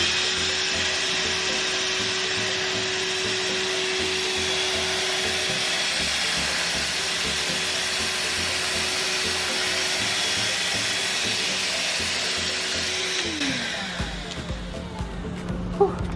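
Ryobi ONE+ cordless 6-gallon wet/dry vacuum sucking up leaves outdoors, a loud steady motor whine with airy suction rush running continuously, then the pitch drops as it winds down near the end.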